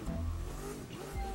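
A car doing a burnout in the racing game The Crew 2 during Santa Monica drag racing, a short steady engine roar with tire squeal, moderately quiet.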